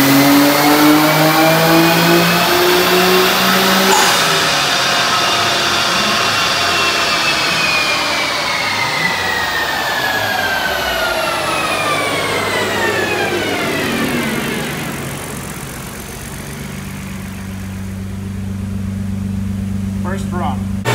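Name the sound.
car engine revving during a dyno run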